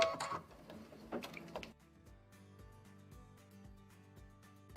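Embroidery machine stitching a tack-down line on quilt fabric inside the hoop: a quiet, regular ticking patter of needle strokes at a steady pace, preceded by a couple of brief handling knocks.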